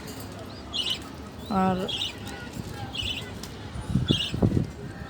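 Pet budgerigars give short, bright chirping calls in repeated bursts, near and clear, while a person speaks in between.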